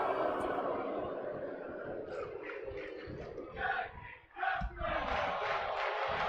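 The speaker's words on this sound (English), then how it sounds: "The crowd are certainly enjoying this one." An arena crowd roars continuously during a wrestling match in the video game WWE 2K24, a dense, fairly distant wash of cheering and shouting with brief dips and surges.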